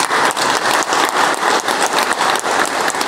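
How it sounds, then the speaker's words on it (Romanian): Audience at a Hunedoara county council session applauding director Ciprian Roman, dense sustained clapping from a crowd filling the room, loud and continuous throughout. "cred că merită să-l și aplaudați și dumneavoastră"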